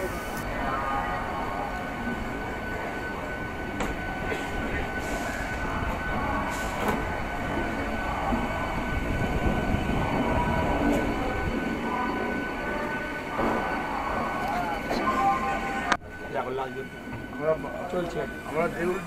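The Balichak local train runs from Howrah toward Kharagpur, heard from inside the carriage as a continuous rumble with wheel clatter and occasional squeal, voices murmuring underneath and a sharp jolt near the end.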